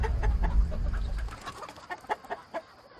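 Chickens clucking on a farm where Maremma sheepdogs guard the flock from foxes: a low rumble fades as a run of short, close, rhythmic clucks and squawks takes over, several birds calling in quick succession without any talk.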